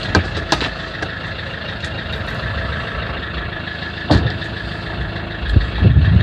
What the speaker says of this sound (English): Sorry about the noise for the actual motorhome